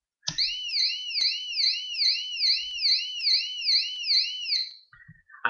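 An Arduino-driven piezo buzzer gives a steady, shrill warbling tone that rises and falls rhythmically for about four and a half seconds, loud and alone, then cuts off.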